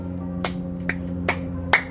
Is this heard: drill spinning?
no